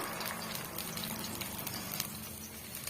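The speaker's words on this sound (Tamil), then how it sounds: "தண்ணி நல்லா கொதிச்சு வரட்டும்" Water coming to a boil in a cooking pan during preparation of a quick potato snack, a steady low bubbling and hissing rush that stays even and close throughout.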